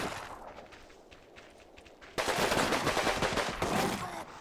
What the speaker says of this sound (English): listen to those MGs go crazy on it